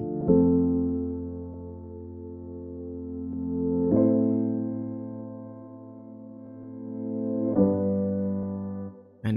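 Layered piano chords, one part reversed and swelling into the next, with sustained harmonic tones rising in three long waves across the phrase, each chord change marked by a fresh attack, played alone with no talking.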